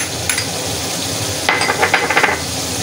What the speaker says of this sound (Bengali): মশলাটাকে ভালো করে কষিয়ে নিতে হবে বন্ধুরা। আর এই পর্যায়ে ঘন ঘন নেড়ে নিতে হবে